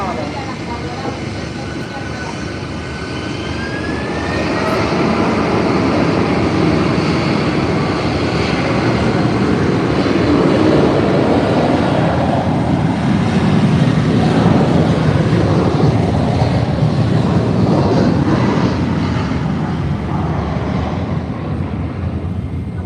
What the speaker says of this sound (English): followed by the JetBlue A320 in the Spotlight livery heading to Punta Cana